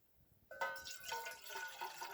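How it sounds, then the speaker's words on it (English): Water poured from a container into a hot, scorching cooking pot from a survival cooking kit: a brief quiet stretch, then a sudden splashing, hissing rush that carries on steadily and close. "We'll get some water in there."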